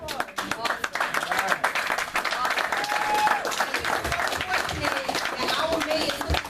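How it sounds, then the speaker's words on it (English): A lecture audience at a bookstore event claps in a sustained round of applause, dense overlapping hand claps filling the room at a steady level, with some voices and cheers mixed in. "Give yourself a round of applause."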